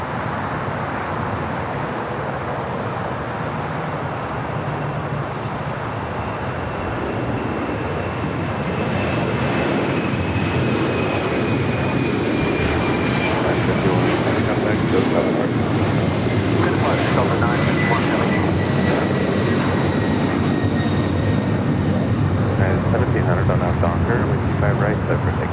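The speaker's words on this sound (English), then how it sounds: "Got that Delta 767 now rolling down." A Delta Boeing 767 jet rolls down the runway at LAX for takeoff, a broad steady engine roar that builds and stays loud, with a thin whine gliding downward above it and people talking over the noise.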